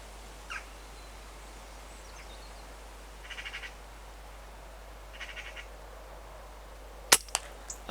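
An air rifle cracks once, sharp and close, at a magpie near a woodland hide, after a quiet stretch broken only by a few faint, distant bird calls.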